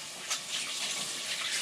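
Water from a tap rushes steadily over plastic durian packaging, a close, continuous hissing spray with slight splashy swells and no talking.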